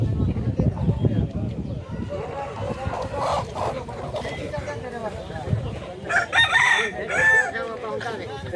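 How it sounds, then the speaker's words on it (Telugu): Chickens clucking and roosters crowing among stalls at a busy tribal market in Munchingiputtu, several birds calling over a steady crowd murmur with nearby voices talking throughout. "చాలా కోళ్ళు ఉన్నాయి"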